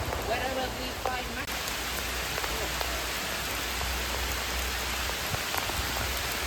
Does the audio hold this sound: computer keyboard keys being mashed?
no